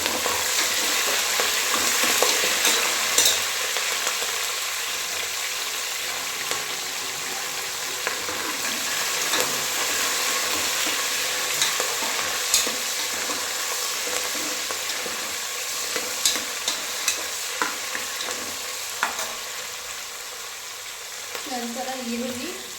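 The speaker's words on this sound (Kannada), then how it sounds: "ಅದಿಷ್ಟನ್ನು ಹೋಗಿದ್ದಾದ್ಮೇಲೆ ಕರಿಬೇವು ಸೊಪ್ಪು ಮತ್ತು ಹಸಿಮೆಣಸಿನಕಾಯಿ ಹಾಕ್ತೀವಿ." Curry leaves and green chillies sizzle and crackle in hot oil for tomato bath, a steady broadband frying hiss with scattered pops and occasional scraping of a spoon stirring the pan, close and continuous.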